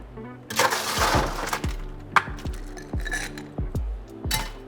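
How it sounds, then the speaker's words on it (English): Ice cubes tumble into a cocktail glass while a Valentine's Day chocolate cranberry mule is being made, giving a rattling rush followed by a series of sharp, close clinks and knocks with brief ringing tails. "And then we'll fill our glass with ice."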